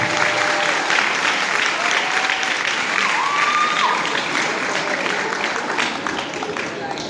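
An audience at a youth scripture memorization competition breaks into loud, sustained applause, with dense crowd clapping that stays steady throughout and fades only slightly toward the end.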